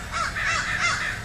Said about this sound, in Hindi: अबे ये कौवे क्यों परेशान करते हैं यार हमेशा